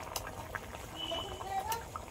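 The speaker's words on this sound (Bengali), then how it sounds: "তরকারির ঝোলটা ফুটে উঠেছে" Fish and potato curry broth bubbling in a pot on a home stove, a soft, faint simmering patter with small pops.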